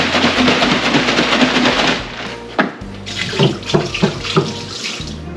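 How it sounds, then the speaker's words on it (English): Cold tap water runs hard into a milk jug during a rinse in a kitchen sink, a loud steady gush, then sloshing, swishing and splashing as the jug is shaken and emptied. "So I do 2 of the cold water rinses."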